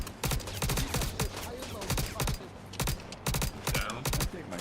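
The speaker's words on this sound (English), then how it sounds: "There's a lot of fire coming in from that tower." Sustained automatic gunfire from a tower in the video game Star Citizen, loud, close bursts of rapid shots repeating across the whole clip with only brief gaps, and faint talk underneath.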